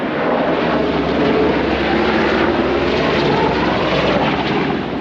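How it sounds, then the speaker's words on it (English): Steady, loud broadband roar of a helicopter flying low overhead, skimming the treetops above farmland, holding constant throughout with no voices. "I can hear a helicopter."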